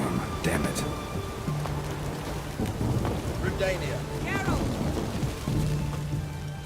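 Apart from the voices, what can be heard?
thunderstorm with rain in The Witcher 3 video game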